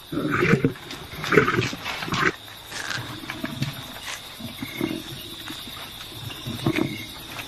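A lioness at a carcass in a tree gives off deep, rumbling growls and snarls in several bursts, close and moderately loud, with quieter grunts between them.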